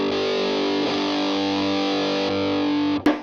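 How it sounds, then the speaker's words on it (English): Electric guitar chord fed through a distortion pedal, sustained and loud with a thick, saturated tone ringing for about three seconds before a brief break near the end. "So this is just the distortion."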